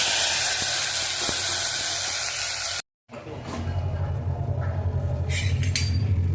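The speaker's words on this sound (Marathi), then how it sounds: "आणि ही मी आता फोडणी देते" Cumin seeds and asafoetida hit hot oil for a tempering, releasing a loud, bright hiss that cuts off briefly and then returns as a softer, crackling sizzle.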